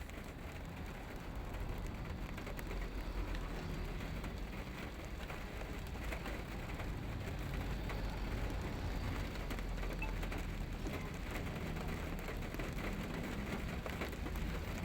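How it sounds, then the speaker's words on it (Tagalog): Heavy rain pouring steadily in Fairview, a dense continuous hiss and patter filling the whole stretch with no letup and no voices. "ang lakas ng ulan dito sa ano"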